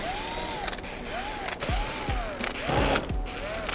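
Close, repeated ratcheting of a screwdriver backing screws out of the circuit board of a Hatari AC-Classic 1 steam fan, several short clicking runs with small metallic knocks and rising squeaks between them, no speech.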